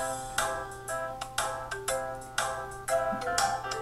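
Music plays at full volume from the built-in loudspeaker of an ASUS Zenfone 2 phone, a steady, somewhat tinny stream with repeating rhythmic note onsets, heard alone with no talking.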